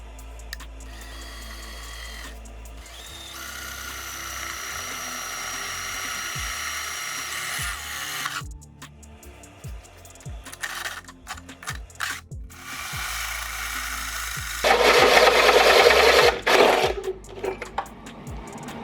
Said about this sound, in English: take a hole saw and drill a hole right here